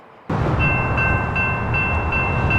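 A stopped freight train at a railroad crossing in Lockland, Ohio, starts as a sudden loud, steady rumble with a faint ringing tone, likely the crossing signal, held throughout.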